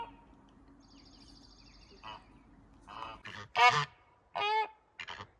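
Several loud goose honks burst out one after another, close by, over a quiet outdoor background.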